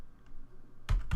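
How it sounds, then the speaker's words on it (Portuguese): A computer keyboard key, the Enter key, pressed during Linux network configuration: two sharp, close clicks near the end after a quiet stretch. "Pressiona Enter."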